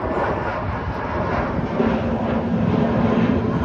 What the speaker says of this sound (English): Airplanes are cool.